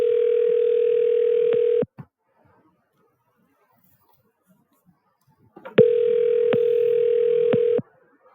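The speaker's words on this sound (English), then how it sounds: "Wait while I transfer your call." A telephone call-transfer tone on a police department phone line, heard as two long steady tone bursts, each about two seconds, separated by a quiet gap with faint clicks.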